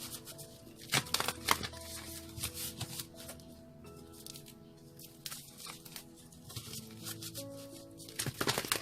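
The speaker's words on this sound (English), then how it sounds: "3 more shuffles at least" Tarot cards being shuffled, soft repeated riffling and slapping in quick irregular bursts, quiet and close, with no voices.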